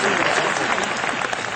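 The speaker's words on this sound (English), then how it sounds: "You should give him a round of applause." An audience at the Hollywood Bowl breaks into a short, dense burst of steady clapping.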